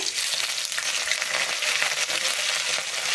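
Chana dal, urad dal and curry leaves fry in hot oil after the mustard seeds have popped, a loud close crackling sizzle that runs steadily with light stirring scrapes and no talk.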